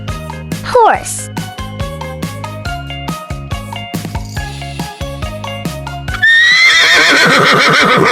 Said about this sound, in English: These are the beautiful horses that we can find in our real life.